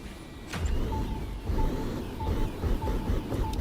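A jet car in The Crew Motorfest with a full nitro setup: a steady, whining engine drone with a recurring high tone, joined by a brief whoosh early on, sounding like a futuristic vehicle motor running continuously.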